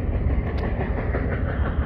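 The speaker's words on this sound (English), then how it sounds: "I don't know what the point even is of running these absolutely tiny trains." A small freight train rolls past on the rails in California's Central Valley, a steady, loud, close rumble with faint clatter running unbroken throughout.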